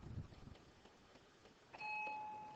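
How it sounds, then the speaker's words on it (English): An electronic school bell chimes at the end of a math class, a clear steady tone starting after a quiet stretch of small room noises and holding on to the end. "Yep, there's the bell."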